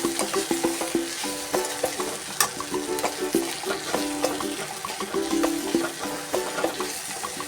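Chili powder is stirred into a vegetable stir-fry, a steady sizzle broken by brisk, rhythmic scraping and tapping of a spatula against the pan, close and clear without voices.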